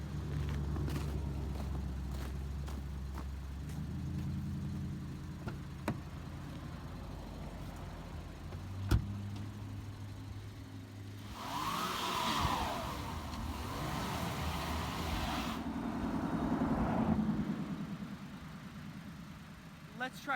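A 2019 Volkswagen Jetta stuck in snow during a storm, its engine revving while a wheel spins, a steady drone that swells to a louder churning whine midway before settling again, with a person talking over it.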